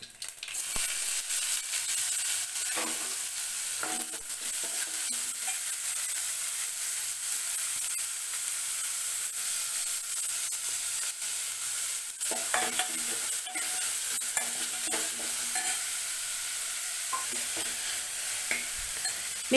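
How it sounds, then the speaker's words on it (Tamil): Garlic, onion and green chillies sautéing in a pan for garlic sambar, a steady close sizzle with scraping stirs throughout, no voices. "இப்போ வந்து பூண்டும் இந்த வெங்காயமும் நல்லா கொஞ்சம் வதங்கட்டும்"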